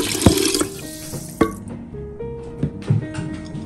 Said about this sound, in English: now I shall add some warm water to it